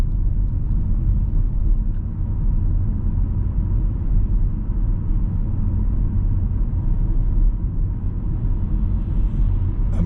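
A car pulls away from a crossroads during a driving test in Bradford, a steady low engine rumble and road noise inside the cabin, even and continuous throughout.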